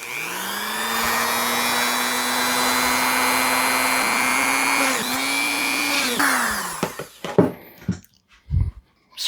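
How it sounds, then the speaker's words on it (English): Power drill boring holes into a wooden guitar neck blank, a loud sustained whine that bogs slightly partway, then winds down into a few short bursts and stops. "we'll go ahead and get that drilled up."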